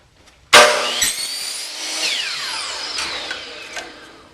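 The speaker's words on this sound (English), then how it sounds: "So we're going to move our miter saw to the left side at 15 degrees." A miter saw set at 15 degrees bites into crown molding for an inside corner: a sudden loud motor whine and cutting rasp, then the blade winding down over a few seconds.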